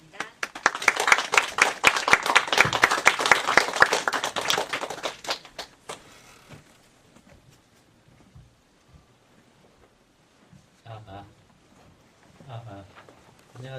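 Audience at a patent lecture event clapping to welcome a professor, a loud burst of applause for about five seconds that fades away, followed by quiet and brief speech.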